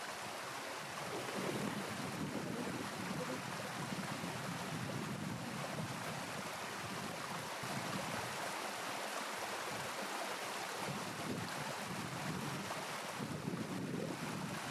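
Water rushes steadily from a stretch of river on the Isle of Skye, a constant dense roar mixed with wind buffeting the microphone, loud and unbroken, with no voices.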